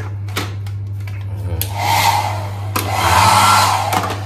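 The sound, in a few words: hair dryer in Queen Palace Hotel room, Abu Dhabi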